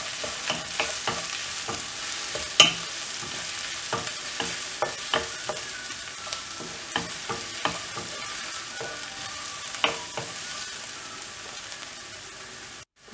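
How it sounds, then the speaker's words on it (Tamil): Onion and garlic frying in a pan for a brinjal, drumstick and cowpea poriyal, a steady broadband sizzle broken by repeated clacks of a spoon stirring, close and fairly loud with no talk. "வெங்காயம் ஃப்ரை ஆன உடனே இதில் பூண்டு ஆட் பண்ணிடலாம் நல்லா ஃப்ரை பண்ணிடலாம்"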